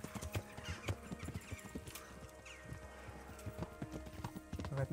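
Rapid clip-clop of a ridden horse's hooves in an uneven galloping rhythm in the video game Kingdom Come: Deliverance, fairly close, with faint background noise and no talking.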